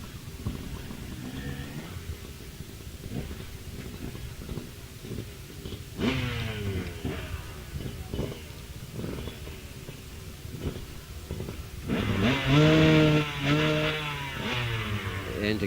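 A 249cc KTM launches at the start of the Wiscombe Park hillclimb, its engine revving in rising, buzzing sweeps that swell louder in two bursts, heard from a moderate distance.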